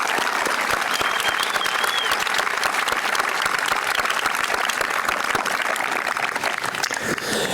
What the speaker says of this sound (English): Let's give one more round of applause for our student speakers tonight